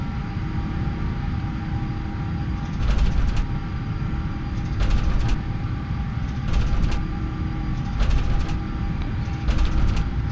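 Airliner engines at takeoff thrust in a flight simulator make a steady, loud broadband roar, broken by faint periodic clicks.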